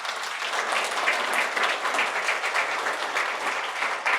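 Sustained audience applause at a historic preservation society's annual meeting and awards event, steady dense clapping from a crowd welcoming a speaker to the stage, continuous and even for several seconds with no talk.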